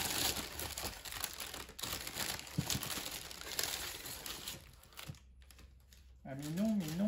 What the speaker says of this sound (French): Donc je vais ouvrir le colis.